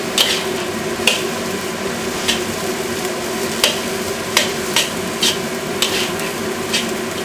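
A wok ladle stirs fried rice with Chinese sausage, corn and green peas in a hot wok, giving a steady sizzle broken by sharp metallic scrapes and clinks roughly every half second to second.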